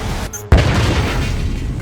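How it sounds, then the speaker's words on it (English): A bomb detonates inside a blast-proof containment chamber in a movie scene, a single sudden loud boom after a brief hush, followed by a sustained rumbling roar that fills the rest of the moment. "Fortunately, the blast-proof chamber withstood the explosion damage."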